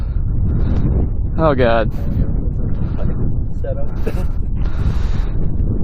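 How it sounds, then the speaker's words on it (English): Strong wind buffets a microphone outdoors beside a Kawasaki KX420 dirt bike, making a constant heavy rumbling roar. Someone talks and exclaims over the blustery noise. "It's super windy."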